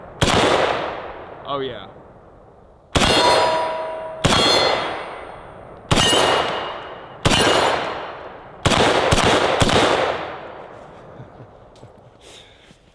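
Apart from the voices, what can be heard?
M1A rifle firing .308 rounds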